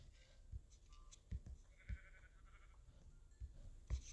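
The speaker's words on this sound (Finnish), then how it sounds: "Siinä on lammas." A sheep in a video game bleats faintly a few times amid soft ambient game sounds and scattered low thumps, quiet and somewhat distant.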